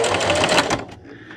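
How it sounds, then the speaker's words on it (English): A domestic sewing machine back stitching fabric, a fast close mechanical whirr of the needle running for under a second, then stopping into a faint hum. "I'm going to line it directly up on my line and back stitch."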